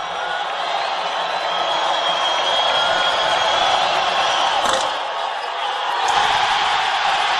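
A packed basketball arena during a late-game free throw in a Carolina at Miami college game fills the air with a steady, loud crowd roar and murmur that swells briefly before settling.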